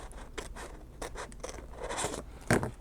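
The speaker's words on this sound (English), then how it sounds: "So I'm just trimming this tape as best as I can." Scissors trim tape on a composition notebook with a series of short, quiet snips and scraping cuts at close range, ending in a sharper cut.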